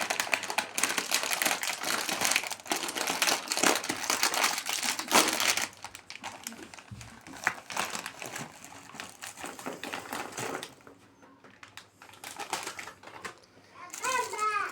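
A plastic gift bag being opened by hand, with loud, dense crinkling and rustling that comes in bursts for several seconds, then thins out. Children's voices chatter over the handling.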